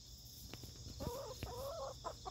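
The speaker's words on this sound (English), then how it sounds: "The beautiful Faverolles." Faverolles chickens cluck in short, close bursts, with a few sharp pecks or knocks between the calls and a steady hiss of background noise.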